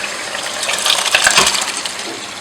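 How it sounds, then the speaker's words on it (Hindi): Lobia beans, likely soaked and wet, tipped into a pot of cooked masala, giving a brief watery pour and splash with soft clinks, close and fairly loud with no talking. "अब हम इसमें डालेंगे लोबिया।"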